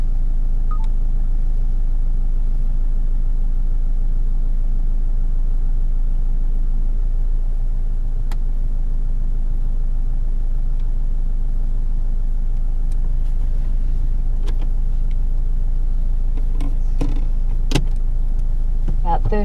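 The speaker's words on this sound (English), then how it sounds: "we'll head off and go for a drive" A car drives around Loch Sport, its engine a steady low rumble close by, with occasional clicks and small cabin noises over a constant road drone.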